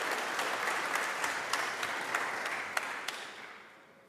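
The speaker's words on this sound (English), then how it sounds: "Give him a round of applause." Audience applause at a tech conference session on blockchain and aging research, a steady wash of many hands clapping that fills the room and then tapers off toward the end.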